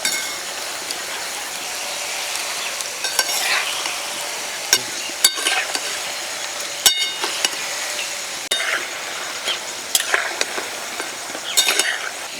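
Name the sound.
cabbage pakoras frying in oil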